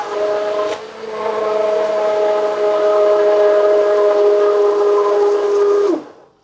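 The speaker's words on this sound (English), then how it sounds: "I want to stick blend because I want every ingredient here to be well mixed" A handheld stick blender whirs steadily while mixing a homemade coconut body wash made from Dove bar soap, a sustained motor drone with a strong steady pitch for about five seconds, then cutting off abruptly.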